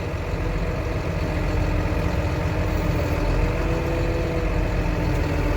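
A modern, very clean farm tractor sits idling close by, giving off a steady, even engine rumble that holds unchanged throughout with no voices over it.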